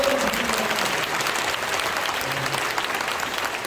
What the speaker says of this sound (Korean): 김기현 장로님 여러분 박수해 주시면 고맙겠습니다.